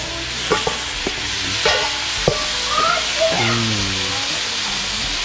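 Wild boar is stir-fried with curry paste in a wok, with a continuous close sizzle broken by clanking stirs and scrapes of the spatula.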